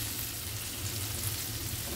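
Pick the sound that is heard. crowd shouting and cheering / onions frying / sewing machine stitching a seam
onions frying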